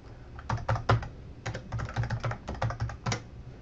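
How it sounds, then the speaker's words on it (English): Computer keyboard typing as a command is entered, a quick irregular run of close, crisp key clicks in short bursts with brief pauses, no voices. "So I will just type it."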